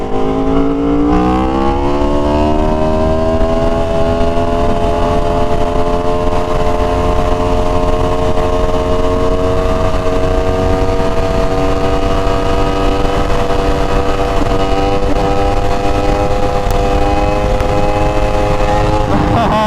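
An Aprilia RSV4 Factory sport motorcycle, ridden on a wheelie, roars with a loud, steady engine note that climbs in pitch through the first seconds and then holds high and sustained, close and constant with wind rush.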